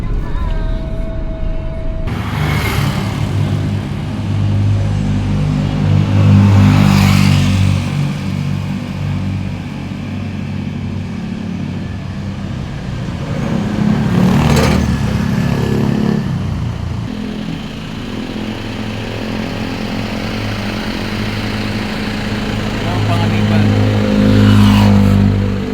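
An Isuzu Traviz engine runs steadily while the vehicle drives a fast, traffic-free road from San Pablo. The drone is loud and continuous, rising in several repeated revving swells as the engine accelerates and shifts.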